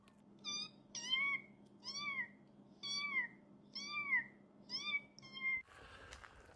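A man imitates a cat, giving seven drawn-out, convincing meows in an even rhythm, close and clear, followed by a brief rustle.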